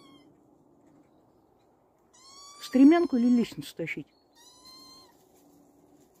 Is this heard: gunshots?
no